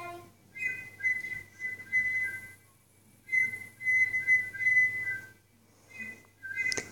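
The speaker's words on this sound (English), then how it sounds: "Oh, it's a cat whistle." A cat whistle gives a high, steady whistle in three separate bursts with short pauses between, fairly clear above a low background hum.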